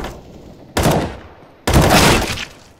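Two loud, close bursts of automatic gunfire from Counter-Strike: Global Offensive ring out back to back, each a dense rattling volley lasting under a second, with no talking.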